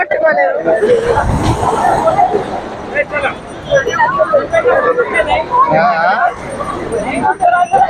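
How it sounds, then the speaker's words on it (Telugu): A dense crowd of beachgoers on R.K. Beach, Visakhapatnam, fills the air with steady overlapping chatter and hubbub, with no single voice standing out. "చూడండి జనాలు ఎంత క్రౌడ్ ఉందో ఇక్కడ"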